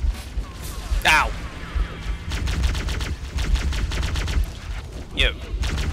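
Gunfire in Halo: Combat Evolved, with dense bursts of shots cracking steadily through the clip and a couple of sharp sweeping effects, all mixed with a game soundtrack and voices.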